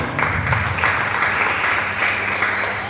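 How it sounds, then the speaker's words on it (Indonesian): Sustained applause from a church congregation, a dense steady wash of many hands clapping, loud and continuous without pause. "Kasih tepuk tangan buat Tuhan."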